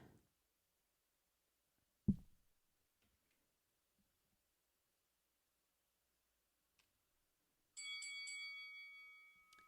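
Bells ring twice in a podcast recording: a sharp single strike near the start, then a ringing, resonant bell tone that sustains and slowly fades, both against near silence.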